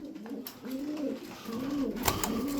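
Pigeons coo in a steady series of soft, rolling calls close by, one bird's cooing running into the next with a brief louder flutter near the end.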